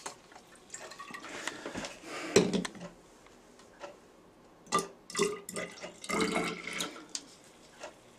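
Liquid poured into a graduated cylinder during a dilution step for urine and saliva testing, heard as a few uneven splashy pours with small clinks of glassware, close and fairly quiet, with no talking.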